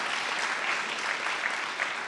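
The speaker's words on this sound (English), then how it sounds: "So let's please give them another round of applause." An audience at a panel on local food advocacy applauds, a steady dense patter of many hands clapping at moderate volume throughout, with no speech over it.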